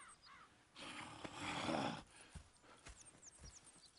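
Horses stir in the video game Red Dead Redemption 2, a faint snort and rustling burst followed by scattered soft hoof thuds and shuffles, with crow-like caws in the background.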